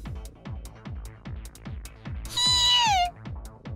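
A single drawn-out stray cat meow from a video game, loud and upward-bending, heard over a steady rhythmic musical backing beat.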